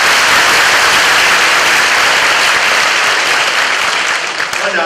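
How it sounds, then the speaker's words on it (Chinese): An audience at a school Thanksgiving event applauds the teachers, a loud, dense burst of clapping sustained throughout with no gaps. "用掌声谢谢我们导师们"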